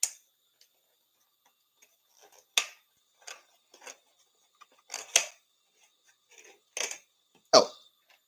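Plastic parts of an Agora Models 1/24 AH-64D Apache Longbow kit snipped free: about eight sharp, close snips and clicks come at irregular intervals, with quiet gaps between them.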